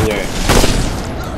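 Shotgun fire in the video game Saints Row IV; a single loud, short blast burst amid game audio, with talk over it.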